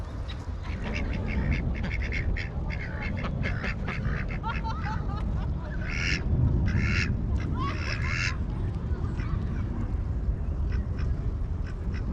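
Ducks quack in bursts at a park pond in Bogotá's Simón Bolívar park, several loud nasal calls over a steady, busy outdoor background.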